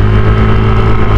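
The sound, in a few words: dump truck driving past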